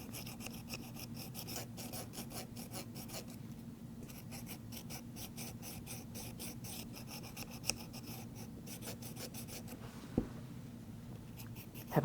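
Double shears with a bent handle are drawn across a sharpening stone, giving steady, repeated dry rasping strokes, close and fairly quiet, with a couple of small knocks near the end.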